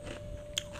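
A single crisp bite into crunchy untir-untir, a twisted rope-shaped fried dough snack, lands as one sharp close crunch amid a soft hiss.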